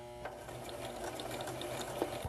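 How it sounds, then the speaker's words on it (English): A sewing machine stitches fabric for a baby hat and bib, giving a quiet, steady mechanical whir that runs evenly throughout with no voices. "I'm going to sew forward a couple of stitches, and then I'm going to back up"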